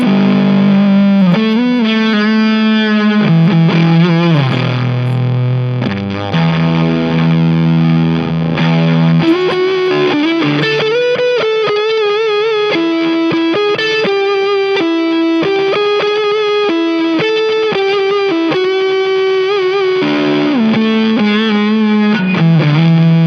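Harley Benton TE-62 electric guitar on its middle pickup position, played through heavy distortion with some effects: a loud, sustained, saturated riff with bends and held notes running continuously, no voices.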